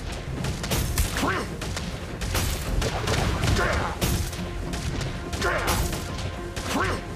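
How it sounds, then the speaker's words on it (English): Mobile Legends battle in which a turret is destroyed: loud, dense bursts of crashes, impacts and whooshing skill effects layered together, with several heavy hits rising and falling over several seconds. "Your team destroyed a turret."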